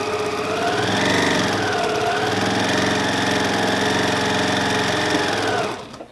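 A sewing machine runs steadily as it stitches around the elastic on a fabric face mask, giving a continuous, close, buzzing motor whir that holds for several seconds and then cuts off at the end.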